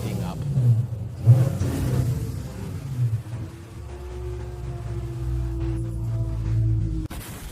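A warmed-up sports car engine idles with a deep, steady rumble and a low droning tone, swelling slightly as it is revved, heard close with no talking over it.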